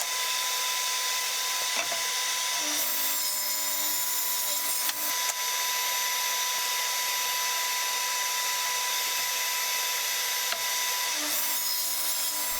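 A power saw cutting wood pieces to size at a router and table saw setup, a continuous buzzing whine that shifts pitch briefly twice as the blade bites into the wood.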